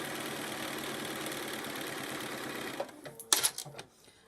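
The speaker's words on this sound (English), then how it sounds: "I'm going to sew up to that pin." A sewing machine runs steadily while stitching binding onto a quilt, a close, even mechanical whir that stops abruptly, followed by a few sharp clicks and handling noises.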